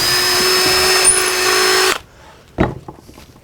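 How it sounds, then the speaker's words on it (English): A power drill bores a peg hole into a wooden inkle loom piece, a loud steady whine for about two seconds that stops abruptly, followed by a brief thump and light handling noises. "and drill that in right about at the baseline"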